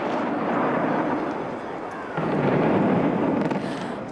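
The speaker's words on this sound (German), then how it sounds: "2001 wurde der Bau dann gesprengt, genau heute, vor 25 Jahren." The Kaiserbau hotel building beside the A59 near Troisdorf is blown up in a demolition blast, heard as a broad, roaring rumble that swells, dips and surges again, loud and sustained, with a voice talking over it.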